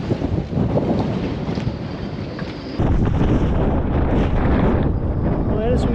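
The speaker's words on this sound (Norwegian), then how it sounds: "Nå er det så mye vind her" Strong wind buffets the microphone aboard a boat in harbour, a loud roaring rush that thickens midway and keeps gusting for the rest of the clip.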